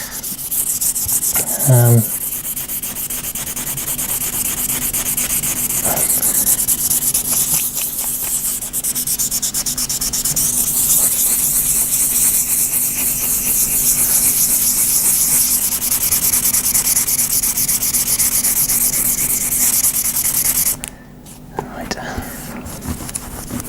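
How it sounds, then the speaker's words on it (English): An orbital sander works over the finish of a DIY kit guitar body, a close, continuous abrasive whirring hiss that runs steadily for about twenty seconds before stopping, with a few handling knocks at the end. "worst case, we get the orbital sander out and we strip it all back again"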